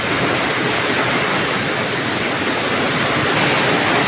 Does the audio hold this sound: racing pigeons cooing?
no